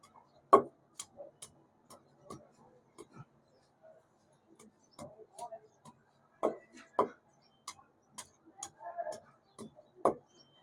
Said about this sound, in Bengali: এরপর হচ্ছে রসুন। আমরা বাটা না দিয়ে জাস্ট আমরা এরকম থেতলে এগুলি দিয়ে দিব।